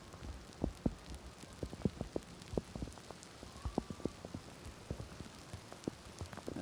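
Heavy rain falling on a soccer field during a Tuesday night men's college match, a steady faint patter with scattered sharper drops and thumps, no voices.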